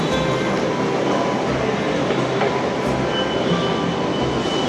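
Metro train at a station platform, a steady dense rumble and hum of the carriages with no break, close and fairly loud throughout.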